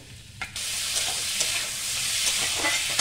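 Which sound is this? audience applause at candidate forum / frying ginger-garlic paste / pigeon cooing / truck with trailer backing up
frying ginger-garlic paste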